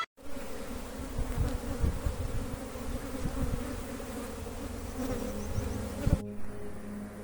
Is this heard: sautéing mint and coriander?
no